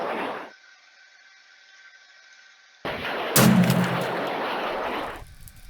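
Cake missile launch and explosion from a Minecraft ICBM mod, heard as a short burst early on, then after a pause a loud sustained roaring blast with a sharp crack that carries on for about two seconds before tapering.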